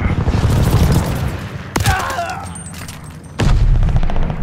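Heavy automatic gunfire pours down in an enemy aircraft strafing run in Call of Duty: Vanguard hardcore team deathmatch, loud and sustained with dense booming bursts, dropping away briefly mid-run before a second loud volley resumes.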